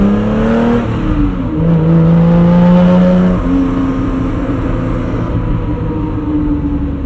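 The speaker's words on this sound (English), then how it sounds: "I get to make noise with the car in a way that I usually don't get to do with supercars" A 1981 BMW M1 engine revs hard while driving, its rising and falling harmonic tones sweeping upward through gear changes, loud and close throughout with no talking.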